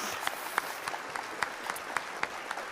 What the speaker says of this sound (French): vous avez les applaudissements du public